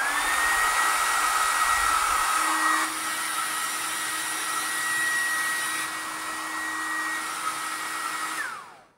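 A Deerma DEM-CF30W hair dryer running on its third mode, giving a loud, steady motor whir and airflow rush with a whine that shifts pitch partway through, then cutting off abruptly at the end.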